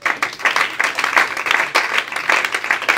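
A church congregation claps and applauds in a steady, dense burst of many hands, continuous and fairly loud throughout.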